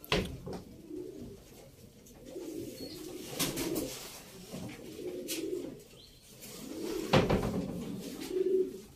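Arab breed pigeons at a bird auction coo repeatedly in soft, low rounded phrases close by, with a few wing flutters and chirps in between and no talk over them.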